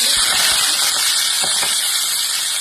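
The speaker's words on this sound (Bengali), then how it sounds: "কড়াইতে এখন পাঁচফোড়ন" Panch phoron five-spice seeds tempering in hot oil in a wok, ahead of cooking lentil dumplings with Malabar spinach, give a loud, steady sizzling hiss with a few soft pops and crackles throughout.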